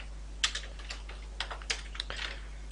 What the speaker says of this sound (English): Here we type our folder name.